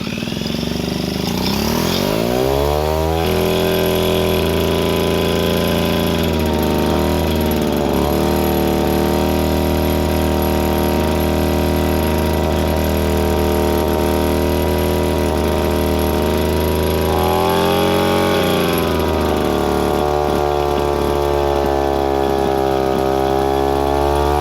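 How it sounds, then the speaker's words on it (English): An old German military generator engine sputters, catches and settles into a loud, steady running drone, with its pitch rising and dipping a few times as it revs, close up and with no talk. "the engine roars back to life after what might have been 50 years of silence"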